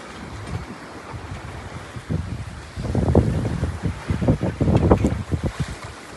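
A 1991 Westerly Typhoon sailboat under sail on an ocean passage from Cape Verde to the Caribbean, with wind buffeting the microphone and water rushing past the hull in loud, surging gusts.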